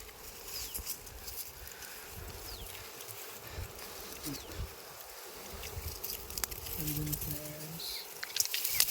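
Bees buzzing inside a hive while honey is being collected outdoors: a continuous, fairly faint droning hum with scattered crackles and rustles, close by, with voices occasionally audible underneath.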